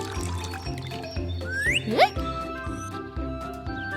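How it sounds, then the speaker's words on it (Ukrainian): Cartoon water fills a pool, a soft running, dripping trickle with bright whistling glides and tinkly effects layered over a light musical background. "Совиня наповнює басейн водою, щоб помити в ньому туктука."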